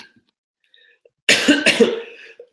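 A single close, harsh cough bursts out after a quiet moment, a couple of rough hacks that trail off into a breathy rasp.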